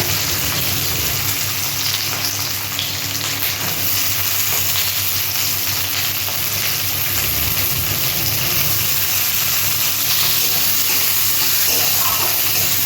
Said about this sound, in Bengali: পেঁয়াজটা আচ্ছা একটু হালকা ফ্রাই করে নেব